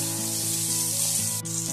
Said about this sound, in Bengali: বেগুনগুলোকে নেড়ে চেড়ে নিয়ে হালকা ব্রাউন কালার করে ভেজে নেব